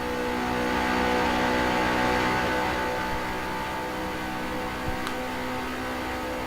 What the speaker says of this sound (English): you want to shift up the gears, third, fourth, fifth, and depending on your ratio, sixth